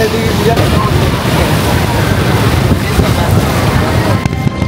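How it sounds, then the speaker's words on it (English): Strong wind drives big waves on the Meghna river during a boat crossing, a loud, steady roar of gusting wind buffeting the microphone with churning water beneath, constant and close throughout. "Today there is a strong wind which is actually creating this huge wave."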